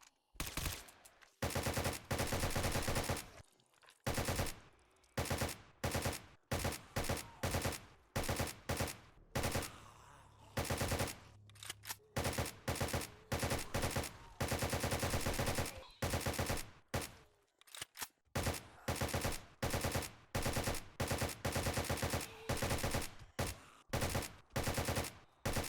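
Rapid bursts of gunfire in the 7 Days To Die Escape From Tarkov mod, sharp loud shots cracking in irregular clusters and strings with brief gaps between, close and dominant, no talking.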